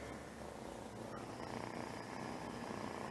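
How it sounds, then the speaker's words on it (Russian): A cat purrs close up, a soft, continuous low rumble that holds steady and quiet throughout, with no voices over it. "Как Тиша мурлыкает, ну-ка"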